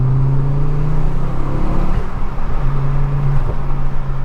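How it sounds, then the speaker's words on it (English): An aftermarket Scorpion exhaust on a Mk2 Ford Focus RS drones loudly under acceleration, heard from inside the car with the window open, with a short break between two steady pulls. "hopefully you can hear what the exhaust sounds like with the window open"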